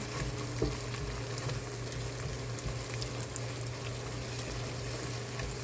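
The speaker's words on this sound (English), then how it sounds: "This is the mutton I'm going to add with this one. It's getting sauteed nicely." Mutton sautéing in a pan for biryani gives a dense, even sizzle with bubbling that runs steadily through the whole stretch, heard up close and at a moderate level with no voices.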